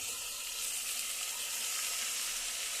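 Tomato pieces sizzle in a hot frying pan, a steady, bright crackling hiss that holds evenly close by with no voices.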